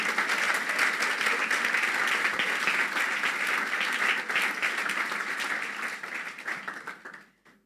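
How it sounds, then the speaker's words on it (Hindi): An audience claps in a steady, dense wash of applause that holds for about six seconds and then fades out. "तालियां बजा दे अपने लिए।"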